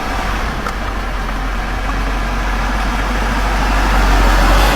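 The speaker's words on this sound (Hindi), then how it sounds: "उसने गाड़ी की रफ्तार बढ़ा दी।" Car engine accelerating on an empty road in thick fog, a loud steady low rumble that swells and grows slightly stronger toward the end, with no other sounds.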